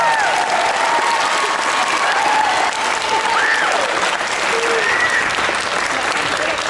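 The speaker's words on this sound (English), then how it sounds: "Let's give the 8th grade teachers a big round of applause." Sustained audience applause fills a school awards ceremony for eighth-grade teachers, steady dense clapping from a crowd throughout, with faint voices and cheers mixed in.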